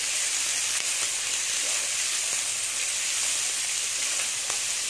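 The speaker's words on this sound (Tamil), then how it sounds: "இது நல்லா வதங்கட்டும்." Onion, garlic and ginger sautéing in a pan for a coconut crab curry give a constant close hiss of frying, with a few faint clicks of stirring.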